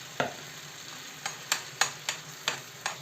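Scraping stirs in a pan of sour cream sauce, a few sharp strokes at a steady rhythm over a soft, continuous sizzle.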